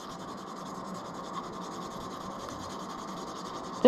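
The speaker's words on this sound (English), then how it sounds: "grab some sandpaper, 400 grit, and just start sanding that away" 400-grit sandpaper rubbing a raised logo off the underside of a plastic model horse, a continuous close scratchy rasp in steady strokes with no talk.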